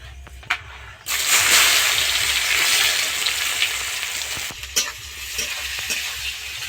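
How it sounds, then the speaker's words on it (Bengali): Onions hiss loudly as they drop into hot oil already tempered with bay leaf, nigella seeds and dried red chilli, a sudden steady sizzle with occasional stirring clinks. "পেঁয়াজটাকে হালকা করে ভেজে নেব"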